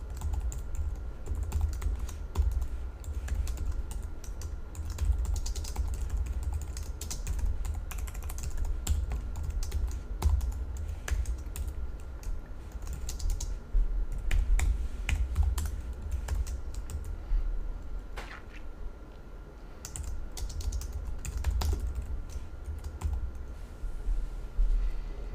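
Continuous typing on a computer keyboard while entering code, a close, busy patter of key clicks with uneven bursts and brief pauses for about twenty-five seconds, no voices.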